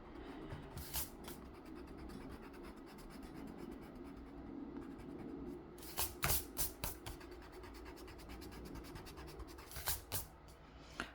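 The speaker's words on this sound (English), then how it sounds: "I'm actually gonna erase these bits just to make it tidy" Pencil drawing of lilies being erased on paper: bursts of quick rubbing strokes near 1 s, 6–7 s and 10 s, close and soft, with quiet pauses between them and no talking.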